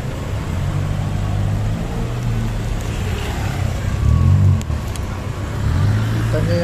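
Dense roadway traffic rumbles close by, with low engine drone from cars, a bus and a motorcycle in congested street conditions, swelling briefly louder midway, while someone talks intermittently over the din.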